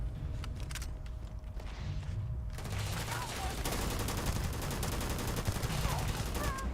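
Gunfire in the space game Starfield, rapid bursts of shots and clattering action after a quieter opening, with a voice faintly present underneath.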